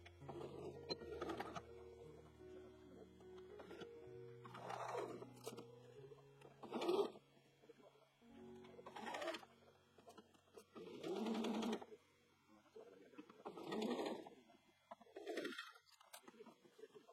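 A domestic sewing machine topstitches a seam in a jersey dress in several short bursts of fast mechanical stitching separated by pauses, close and quiet.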